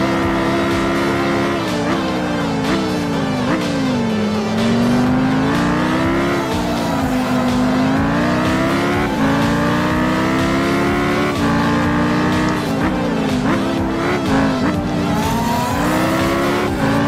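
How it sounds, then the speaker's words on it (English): A loud car engine rises and falls through gear changes and revs, continuous and close, like a touring race car driving hard, with no talk over it. "There's a loud ass car outside."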